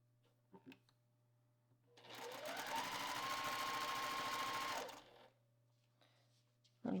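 A sewing machine chain-piecing quilt fabric scraps runs in one steady whirring burst of a few seconds, rising in speed then cutting off, with faint handling clicks before and after in a quiet room.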